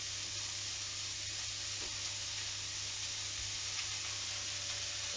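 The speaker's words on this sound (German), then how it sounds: "Und ich brate mein Gehacktes immer in Etappen an" Minced meat sizzles steadily in a hot pan, fried in batches, a constant crackling hiss with faint stirring taps, fairly quiet and close.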